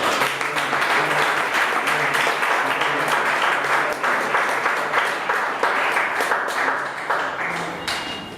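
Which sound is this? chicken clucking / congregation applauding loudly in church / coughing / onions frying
congregation applauding loudly in church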